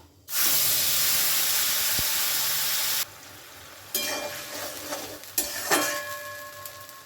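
Tomato puree hits a hot pan of curry with a sudden loud roaring sizzle that cuts off after about three seconds, followed by softer bubbling, a few scrapes and knocks of a spoon.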